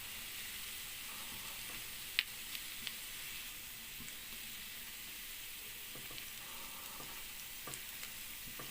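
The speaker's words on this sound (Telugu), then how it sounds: "ఒక్కొక్కటి దీంట్లో వేసుకుని డీప్ ఫ్రై చేసుకుందాం" Carrot gulab jamun balls deep frying in hot oil give a steady, close sizzle with a few small pops and crackles throughout.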